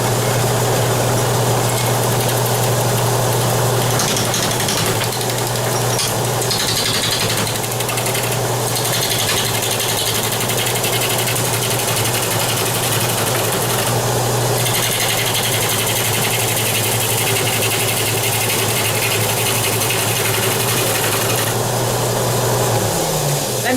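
Wood lathe turning a vase blank at a slowed 640 RPM, giving a steady mechanical hum with a constant low drone that holds throughout and ends near the close, no talking.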